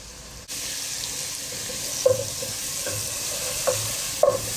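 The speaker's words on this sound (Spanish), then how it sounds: "Así lo dejamos acá que vaya sofriendo." Garlic sautéing in a pan sizzles steadily and close, a continuous frying hiss broken by a few brief stirring scrapes, with no talk.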